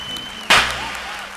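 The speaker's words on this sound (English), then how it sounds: "You don't have to clap again" A single sharp hand clap cracks out close and loud against a quiet room hum, made to sync audio at the start of a virtual collaboration recording.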